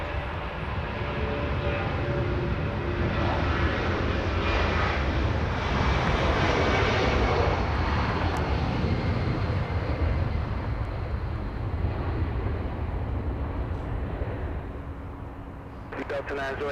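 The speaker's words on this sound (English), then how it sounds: "let's go for the 757. This one flying to Boston, Massachusetts" A Delta Boeing 757 bound for Boston at Los Angeles International Airport produces a loud, sustained jet roar that holds steady for the whole stretch, with broadband rumble, a faint voice over it and a fade near the end.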